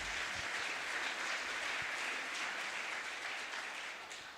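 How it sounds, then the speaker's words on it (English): Applause from attendees at a scientific network meeting, a quiet, even wash of clapping heard from a distance that fades slightly toward the end. "Let's give him a round of applause, guys."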